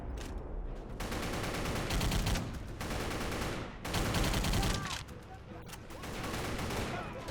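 Dense video-game gunfire sweeps through a line of enemies in bursts of rapid automatic shots, loud and continuous with brief gaps between volleys, while a voice talks faintly underneath.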